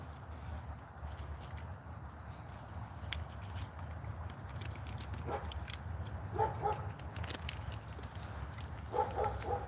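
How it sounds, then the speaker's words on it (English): A dog barks in short bursts at a distance over a steady low outdoor rumble, with a couple of clusters of yips near the middle and end. "My apologies about the dog barking."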